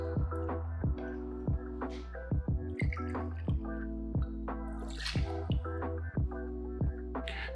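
Liquid drips and splashes close by, rum poured into a metal cocktail shaker while an Old Cuban cocktail is mixed, with a steady run of small drip sounds over a low constant hum and no talking.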